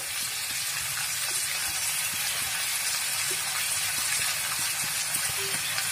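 Small chela fish frying in a pan, a steady, dense sizzle with scattered pops and crackles of hot oil that run continuously at moderate level with no talk.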